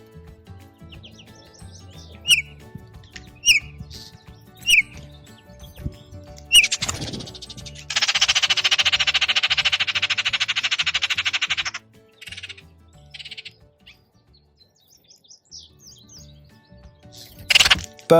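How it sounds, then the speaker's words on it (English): Baltimore oriole singing, a series of short, clear whistled notes spaced a second or two apart, with a loud buzzy chatter lasting several seconds midway and a few more sharp calls at the end. "Bird number 18, the Baltimore oriole."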